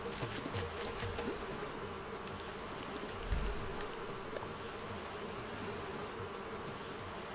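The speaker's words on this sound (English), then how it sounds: "You are still susceptible to catching, to getting wasps." Wasps buzz steadily in an Animal Crossing-style island game played on hard mode, a continuous insect drone with a brief louder swell partway through, no talking over it.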